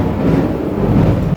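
Thunder from the first monsoon rain of the season rumbles in a heavy, continuous low roar, loud and close, without speech.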